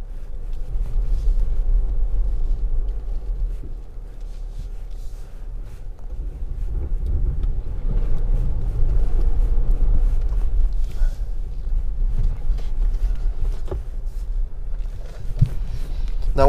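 A SsangYong Korando descends an off-road hill, its engine a steady low rumble with crunching terrain noise beneath, continuous and close throughout without any talking.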